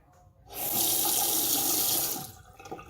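Water gushes steadily from a newly installed faucet in an updated master bathroom, a loud continuous hiss that starts abruptly, holds for about two seconds, then cuts off.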